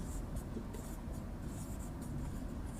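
A pen scratches steadily across paper or a board during a biology lecture, a continuous close scribbling texture with short bursts of strokes and no talking over it.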